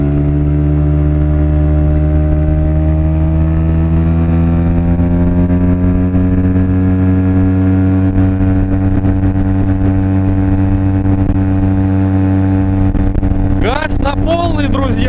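Outboard motor pushing an Admiral 320 inflatable boat with an inflatable floor at full throttle, running downstream at about 28 km/h: a loud, steady high-revving whine holding constant throughout, with a brief burst of other noise near the end.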